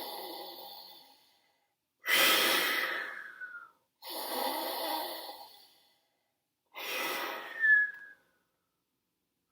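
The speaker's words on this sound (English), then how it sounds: "inhale deeply through the nose and exhale out the mouth" Three long, deep breaths drawn in through the nose and pushed out through the mouth, each a breathy rush of about two seconds with a faint whistling edge, close and alone in a quiet room.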